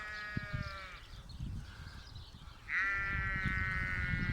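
Zwartbles sheep and their lambs bleat nearby as they go out to pasture, two long wavering calls with a pause between and rustling animal movement underneath.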